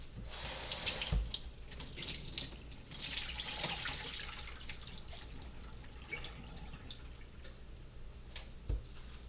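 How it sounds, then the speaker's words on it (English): Chopped cauliflower is rinsed under a running kitchen tap, the water splashing and gurgling unevenly into the sink from close by. "The cauliflower is all chopped up now, and we're just gonna take it this way, give it a quick rinse."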